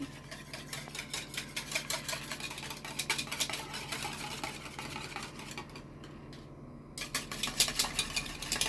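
Quick, continuous clinking and scraping of a fork beating eggs in a bowl, close up, with a brief pause before the rapid beating resumes.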